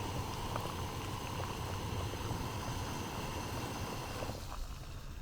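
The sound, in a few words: water boiling on a camp stove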